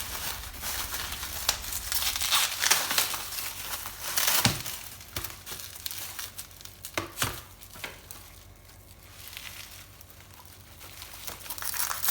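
Plastic mail packaging crinkles and rustles as a parcel holding a nut-shaped cookie baking mould is unwrapped, with steady close crackling and a few sharper tearing bursts.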